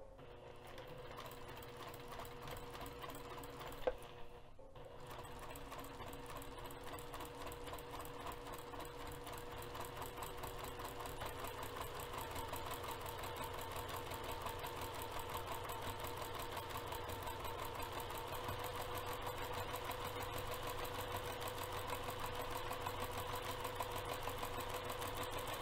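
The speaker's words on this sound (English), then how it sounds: "I'm just going to continue sewing through all the lines till I complete this half of the pouch." A sewing machine quilts fabric for a bag pouch at a 3.5 mm stitch length, running in a steady, continuous mechanical whir that lasts nearly throughout with one brief pause early on.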